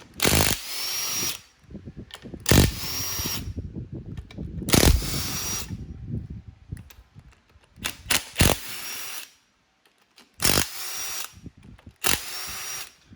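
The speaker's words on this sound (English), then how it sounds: "So now I'm going and start zipping all these 12 millimeters out." A power tool zips out 12 mm bolts on a turbo 2AZ-FE engine teardown, in repeated loud whirring bursts of about a second each, separated by pauses with clinks and handling noises, close up and without talk.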